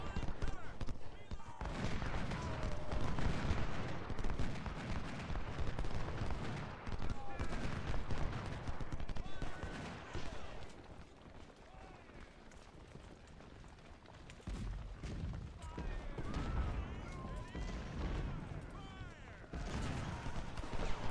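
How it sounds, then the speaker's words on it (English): Ultimate General: Civil War battle audio at Chantilly, with dense, continuous cannon and musket fire booming and crackling throughout under someone talking. "start using the artillery to shoot off the defenders of the cannons"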